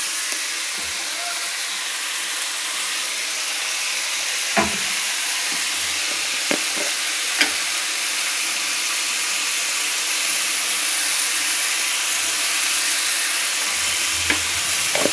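Potato and tomato frying in a pan, a steady broadband sizzle running throughout with a few sharp clicks and taps of stirring scattered across it, close and even in level.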